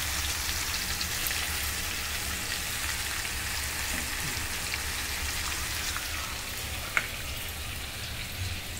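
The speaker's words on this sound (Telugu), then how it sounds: "ఇది మీకు మీడియం ఫ్లేమ్లోనే వేయించుకోవాలి, హైలో పెట్టకూడదు." Chicken frying in tomato gravy over a medium flame, giving a steady, dense sizzle and crackle that runs evenly throughout with one sharp tap near the end and no talking.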